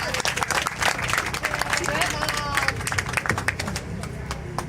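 An audience at the Revived Hope Cancer Awareness Walk in Rosedale, Queens, applauds cancer survivors with steady, dense clapping from a nearby crowd, mixed with cheers and chatter throughout.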